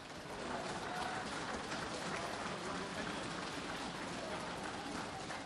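Applause breaks out across a parliament chamber to welcome a visiting delegation, a dense steady patter of many hands clapping together, fairly loud and sustained throughout without a break.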